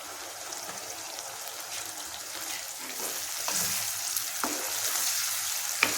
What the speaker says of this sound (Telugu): ఉల్లిపాయలు వేగనిద్దాం.